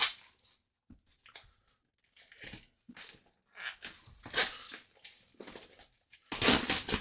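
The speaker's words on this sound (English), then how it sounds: "Let us go ahead and open up the plastic on here." Plastic shrink wrap torn and peeled off an Everdell board game box, heard as close, irregular crinkling and crackling bursts with short pauses, ending in a louder sustained crumple.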